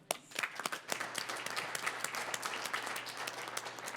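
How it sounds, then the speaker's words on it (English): Applause breaks out at a city council meeting after a unanimous vote, a steady wash of many hands clapping at moderate level with individual sharper claps standing out, continuing without voices. "Yes, you can clap on that."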